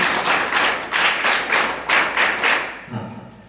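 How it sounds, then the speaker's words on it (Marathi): Class 12 students clap together to welcome the Class 11 students, a loud group applause beating in a steady rhythm of about six strong bursts before it stops. "बारावीचे जे विद्यार्थी आहेत त्यांनी पहिल्यांदा अकरावीच्या विद्यार्थ्यांचं जोरदार टाळ्या स्वागत करावं"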